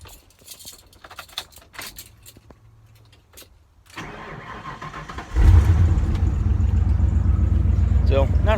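A worn starter on a 1996 Ford F350 grinds through a short crank before the engine catches and settles into a loud, steady idle, preceded by quieter handling noises and brief talk.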